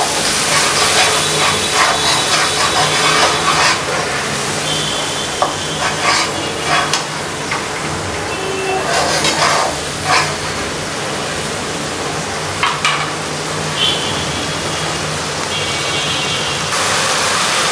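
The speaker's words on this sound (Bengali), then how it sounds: "এখন ভালো করে মশলাটা কষাবো" Spice paste of ground coriander, cumin and salt frying in a pan, with a steady close sizzle and hiss running throughout, broken by repeated scraping stirs of a spatula.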